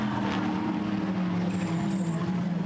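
Red Ferrari GT race cars from the Blancpain GT Sports Club race at Misano pass, making a steady, loud engine roar with a low droning tone throughout.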